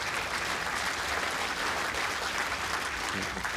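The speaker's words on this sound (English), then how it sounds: "The young man there looking very excited. Clapping away." Crowd at an indoor bowls championship applauds, a continuous wash of many hands clapping, steady and fairly loud throughout.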